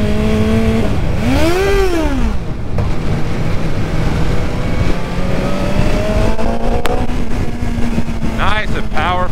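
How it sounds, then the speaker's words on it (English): A BMW S1000XR motorcycle engine revs up and settles into a loud, steady drone close by, with a rising-and-falling pitch sweep early on and a brief higher whine near the end. "Engine sounds fantastic."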